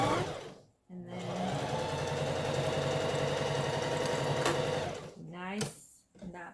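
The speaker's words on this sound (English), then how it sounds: "I need to sew here." A sewing machine stitches a pet necktie with a close, steady mechanical whir and fast needle rhythm that runs for several seconds, starting and stopping abruptly at either end.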